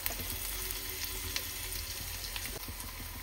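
Faint, steady sizzling of sliced onion and capsicum frying in a pan, a soft continuous hiss with small crackles and no talk.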